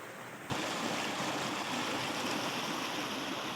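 A stream flows through green forest, a steady, close rush of running water that begins abruptly and continues evenly with no speech.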